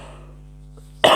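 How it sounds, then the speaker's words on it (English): A single sharp cough from a woman, loud and close, bursting out abruptly after a quiet stretch with low background hum. "I just need to cough."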